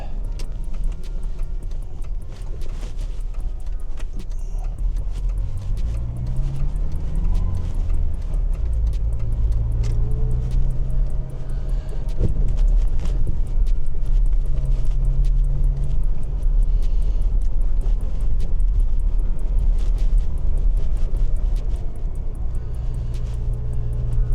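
Car rolling slowly through the historic section of a town at about 20 mph, a steady low engine rumble and road noise from inside the cabin, continuous with slight rises in pitch as it pulls along.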